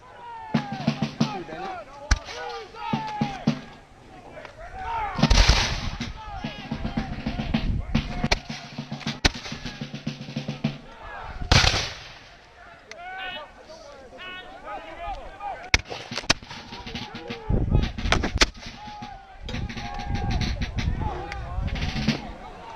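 Musket and cannon fire crack and boom at a Fort Ticonderoga battle reenactment, scattered loud shots and volleys at varying distances amid shouting voices and general battlefield commotion.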